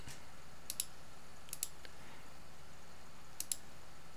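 A computer mouse clicks in quick pairs while someone draws a polygon shape on a map. Three faint double-clicks are spread over a few seconds of quiet room tone, with no talking.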